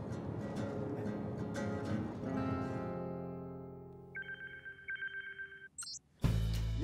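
A new phone rings with an incoming video call, a repeating electronic ringtone that starts alone after background music fades out, followed by a sudden loud burst.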